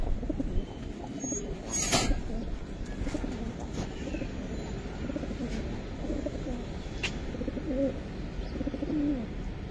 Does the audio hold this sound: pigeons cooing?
yes